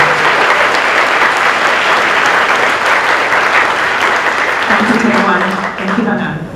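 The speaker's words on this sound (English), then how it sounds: "So, big round of applause for this girl." An audience at a school presentation day claps loudly for a girl receiving an award, a dense sustained round of applause that thins slightly near the end as a voice begins.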